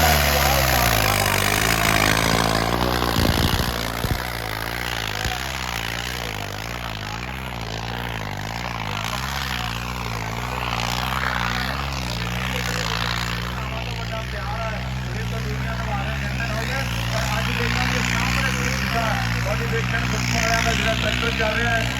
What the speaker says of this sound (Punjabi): ਜਿਹੜਾ ਟਰੈਕਟਰ ਚੱਲ ਰਿਹਾ ਹੈ